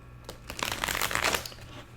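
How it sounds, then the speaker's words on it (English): A deck of tarot cards is shuffled close by, a soft rapid riffling flutter that swells and fades over about a second, quiet and alone. "Hold on, I want to shuffle this."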